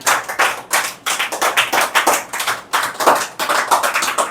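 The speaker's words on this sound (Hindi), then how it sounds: "इनके लिए भी ताली बजाएगा।" Audience clapping for a student at a prize ceremony, rapid bursts of hand claps in uneven waves that pause briefly and restart, fairly loud and close with no talking.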